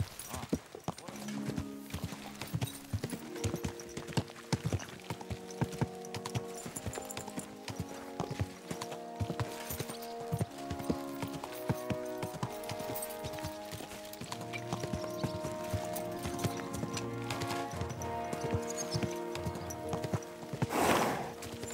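Horse hooves clip-clop steadily as a rider travels in Kingdom Come: Deliverance II, the rhythmic hoofbeats running under a continuous melodic music score throughout.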